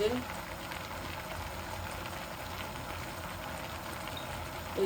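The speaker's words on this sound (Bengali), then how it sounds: "এখন আমি আপনাদের সামনে ভিনিগার দিলাই" A sweet-sour mango pickle simmers in a pot after vinegar is poured in, giving a constant soft bubbling and hiss that stays quiet and even throughout.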